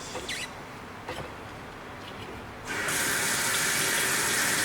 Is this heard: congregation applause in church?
no